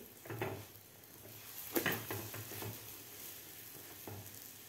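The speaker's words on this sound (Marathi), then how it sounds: "आपल्याला दोन्ही साईडकडून हे सुद्धा पोळी भाजून घ्यायची आहे" A mango puran poli roasts with ghee on a pan, giving a soft steady sizzle broken by a few light scrapes and taps of a spatula, close and fairly quiet with no talking.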